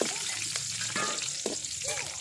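Cashews and raisins fry in hot ghee for village-style rava laddu, a close steady sizzle broken by a few sharp stirring scrapes against the pan.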